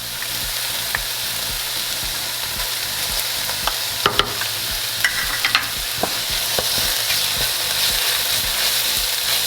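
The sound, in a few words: garlic paste sizzling in a pan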